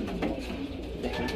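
Female racing pigeons cooing softly in a loft, a low, murmuring run of calls that continues steadily for a moment at moderate distance with no voices.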